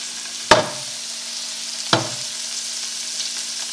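Scallops sear in a hot pan, a bright steady sizzle with two sharp clacks of metal as they go in, the hissing continuing close and even between them.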